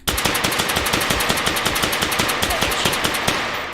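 Rapid automatic gunfire in the VR shooter H3VR, a fast, even burst of close, loud shots rattling for several seconds before cutting off.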